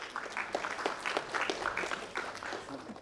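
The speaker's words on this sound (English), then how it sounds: "we can give a round of applause to the algorithm" Scattered applause from a lecture audience in a university algorithms class, a few hands clapping fairly evenly at moderate volume for about three seconds.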